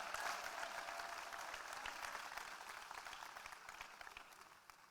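Audience applause for the Safaricom PLC CEO at a corporate event, a sustained round of clapping from a crowd that fades gradually toward the end, with no voices over it.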